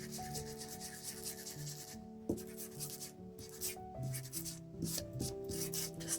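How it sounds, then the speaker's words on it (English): Sandpaper rubs along the edge of a paper bag envelope in short, quiet, scratchy strokes close up, broken by brief pauses, with a low background hum. "sand it a little bit."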